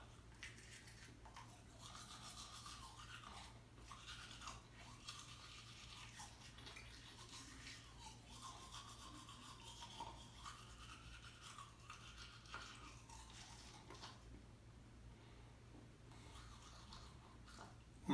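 Teeth being brushed with an excess of toothpaste, a steady wet scrubbing that runs on for many seconds, faint and close, with no talking.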